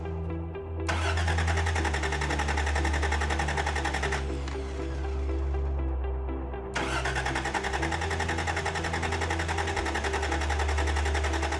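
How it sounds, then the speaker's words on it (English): A steady idling engine hum in a cheap used truck, with a buzzy electric whine cutting in and out over several seconds as the fuel pump cycles after the key is turned on; continuous and close, no talk. "Now let's turn the key on and see if this fuel pump actually cycles."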